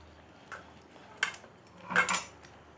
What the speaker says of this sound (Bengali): এইভাবে একটু ফেটাতে হবে ভালো করে।